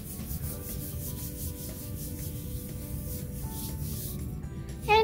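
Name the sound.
knuckle rubbing paper for a squish print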